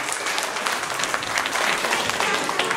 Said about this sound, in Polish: Brawo, gorące brawa.